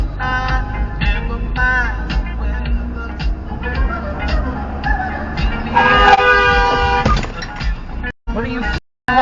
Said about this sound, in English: What are you honking at me for